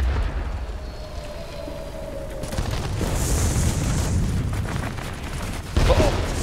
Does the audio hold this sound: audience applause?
no